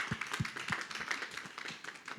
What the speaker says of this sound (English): And you give me a round of applause.